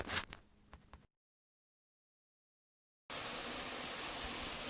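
Steady broadband rush of rain falling beside a waterfall during a thunderstorm, heard under a sheltering tree; the hiss starts faint and uneven, cuts to silence, then returns loud and constant.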